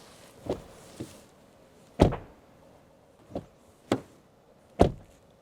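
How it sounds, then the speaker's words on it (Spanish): Several sharp, solid thunks at uneven intervals as the doors of an OMODA 7 SHS car are shut firmly, each one short and fairly close, with quiet in between. "otra prueba aún más conocida es el sonido de las puertas"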